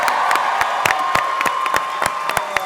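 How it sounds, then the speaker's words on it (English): Dense audience applause with cheers and whoops fills a comic convention hall after a Wizard of Oz themed Twisted Toonz show at Emerald City Comicon 2019, with steady clapping and sharp individual claps throughout. "Folks, big round of applause for these folks."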